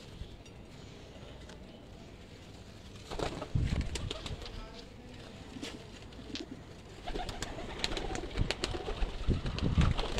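Pigeons cooing in a loft kept by pigeon fanciers, soft repeated low coos with a few brief wing flaps, fairly close and gentle, without talk.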